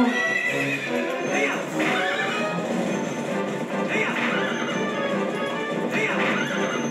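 In the Zelda: Twilight Princess video game, an enemy charges on a boar with galloping hoofbeats and snorting, squealing animal cries. The sound is loud and continuous, with battle effects in the game mix.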